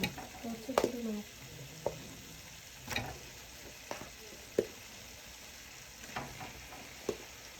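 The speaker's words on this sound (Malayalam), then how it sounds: "കപ്പ അതിലേക്ക് ഇട്ടതിന് ശേഷം ഇത് നന്നായിട്ട് ഇളക്കി കൊടുക്കണം." Cooked tapioca is stirred into biryani masala frying in a pan, giving a soft steady sizzle broken by scraping stirs and clinks, close and fairly quiet.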